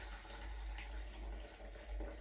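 Water pours steadily down a drain, a faint, continuous trickling wash with slight surges and no voices.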